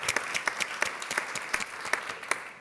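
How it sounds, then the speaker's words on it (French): An audience at the Nautik Deiz 2025 maritime event applauds, a moderate, steady patter of many hands clapping heard from within the room. "Vous pouvez l'applaudir quand même."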